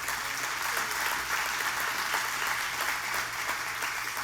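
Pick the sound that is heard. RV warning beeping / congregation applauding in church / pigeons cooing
congregation applauding in church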